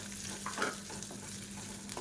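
Grated coconut fries in hot ghee over a medium flame, giving a steady, close sizzle with faint stirring scrapes and no talk.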